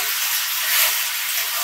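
Potatoes sizzle in hot oil for a dhaba-style aloo dum, a steady, dense crackling hiss that swells slightly midway and carries on alone without pause.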